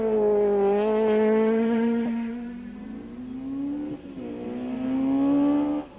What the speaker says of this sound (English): Enzo Keen and Guy Hodgson blasted into the stage.